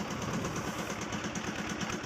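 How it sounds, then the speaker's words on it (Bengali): A motor boat's engine chugs at a steady, rapid idle-like rhythm while crossing a foggy river on a winter morning, moderately quiet and continuous with no speech. "কিছুক্ষণ পর নৌকা চলতে শুরু করলো।"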